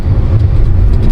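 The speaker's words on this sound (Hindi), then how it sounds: "गाड़ी तेज चल रही है।" A car driving fast on a city road to a CNG station makes a loud, steady low road and engine rumble, heard briefly and close, with no speech over it.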